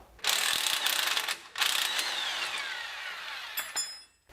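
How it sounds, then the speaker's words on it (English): An impact gun spins off a 19 mm axle bolt on a Nissan Xterra during a lift kit install: two loud, close bursts of whirring, rattling hammering, the second longer, ending with a few metallic clinks. "I'm gonna grab my impact gun"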